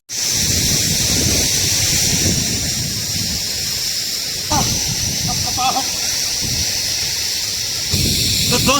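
Sural Bhatori waterfall in the Pangi Valley roars in a loud, continuous rush of falling water. The wash is steady and close throughout, and wind buffets the microphone.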